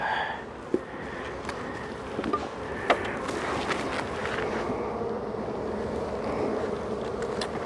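Honey bees buzz around a brood frame lifted from a hive, a steady, faint drone that holds throughout, with a few soft knocks and handling noises close by.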